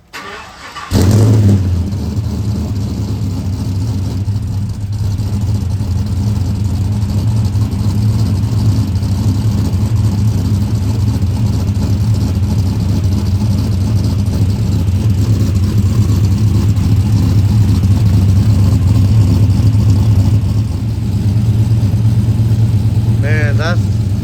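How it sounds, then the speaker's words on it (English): A cammed 5.3 V8 fitted with a Dynomax Ultra Flo muffler cold-starts in snowy weather after sitting for weeks, cranking briefly then catching into a loud, steady, lopey idle that rumbles on throughout. "it's probably a cold start when I start it up."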